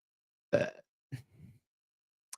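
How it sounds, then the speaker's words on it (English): Two close burps, a loud throaty one followed by a shorter, weaker one that trails into a low grunt, then a tiny click near the end, all against silence. "Keep burping."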